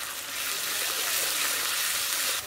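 Spices with chopped tomato and salt sizzle and fry steadily in a pan during masala cooking for a stingray fish curry, with a continuous close hiss that holds evenly and then eases near the end.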